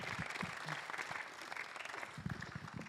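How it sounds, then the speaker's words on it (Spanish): Church congregation applauding during a sermon, a quiet, moderately distant patter of clapping with voices mixed underneath. "Give a big applause to the Lord."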